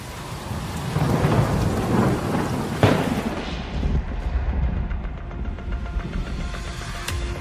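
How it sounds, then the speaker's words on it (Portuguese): Heavy rain pours down during a thunderstorm with hail in central Rio Grande do Sul, Brazil. A dense, steady roar of rainfall runs under rolling thunder, with one sharp, close crack partway through. "Chuvas de granizo começaram a cair no dia 27 de abril na região central do estado."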